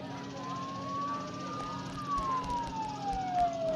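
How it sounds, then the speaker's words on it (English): Emergency vehicle sirens wail outside, a rising and falling tone sweeping steadily over a continuous background hum, fairly close and persistent, with faint talk in the room. "Those sirens sound really close."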